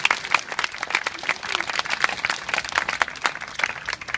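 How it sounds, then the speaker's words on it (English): Protesters gathered outdoors near Westminster applaud a speaker, a crowd of distinct, crisp claps with scattered cheering voices, fairly close and lively for about four seconds. "Big round of applause for Peter."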